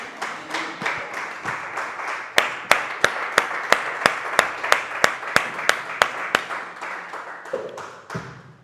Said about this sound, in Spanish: demos un fuerte aplauso